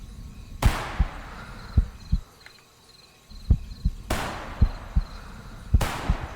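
Hunting rifle shots in the video game Hunting Simulator 2, three loud sharp cracks each trailing into a long echoing decay across an outdoor landscape, with soft footstep-like thumps and faint insect ambience between them.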